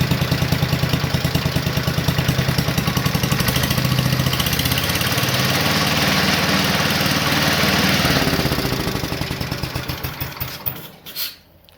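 A Toro Suburban garden tractor engine runs steadily at close range with a rapid, even chugging beat, then winds down and cuts off near the end.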